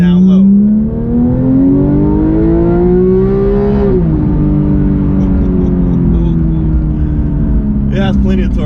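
A Porsche 911 GT3 of the 991.1 generation pulls hard from low revs, its loud, close engine note climbing steadily for a few seconds, dipping at a gear change, then holding a strong, even drone.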